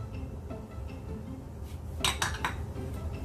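Salt mixed into pizza dough ingredients in a bowl, soft scraping and stirring followed by a few quick metallic clinks of a spoon against the bowl, close and fairly quiet.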